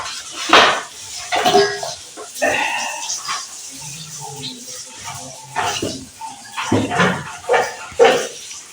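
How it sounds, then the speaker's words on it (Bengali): Knife chopping onions and potatoes on a board in a home kitchen, irregular taps and clinks with dish clatter, moderately close, with voices in the background. "পেঁয়াজ আলু টালু এসব কেটে নিচ্ছে ভালো করে"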